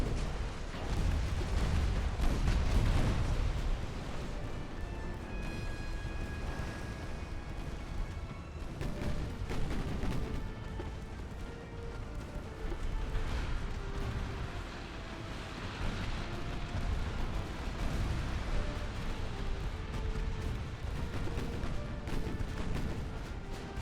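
A dense, rumbling battle in the naval game Ultimate Admiral: Dreadnoughts, with constant booming gunfire and heavy explosions from torpedo hits layered into a loud, unbroken roar that swells and fades across the whole stretch.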